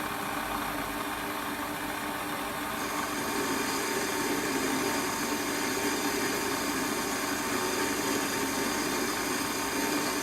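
A Warco metal lathe turns a taper, giving a steady, continuous machining drone with a whining motor and cutting hiss that holds evenly throughout at moderate level, with no talking.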